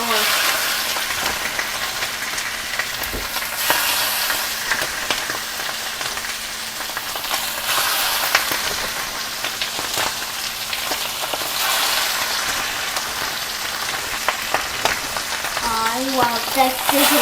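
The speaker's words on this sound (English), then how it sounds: "That sizzle is what you're listening for." Chicken thighs searing in hot oil in a pan, a loud steady sizzle and crackle that fills the whole stretch, with occasional faint scraping.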